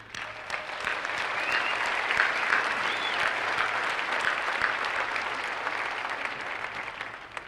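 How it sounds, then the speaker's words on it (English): Sustained audience applause fills a university commencement ceremony in an indoor arena, a dense, steady wash of many hands clapping at even loudness throughout, with no voices over it. "I'd also like to give a round of applause for students, parents, grandparents, family, and friends who have made this day a reality."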